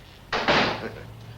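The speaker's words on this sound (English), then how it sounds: "Close the door." Office door pushed shut with a quick whooshing swing and a solid closing thud, heard close in a quiet room.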